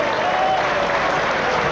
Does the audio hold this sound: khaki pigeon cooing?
no